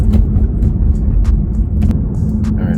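A BMW F30 335i with the N55 engine and a Stage 2 tune pulls under light throttle, giving a steady low rumble from inside the car with no talk.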